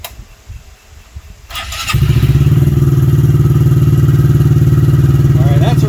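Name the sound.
Honda Grom motorcycle engine starting up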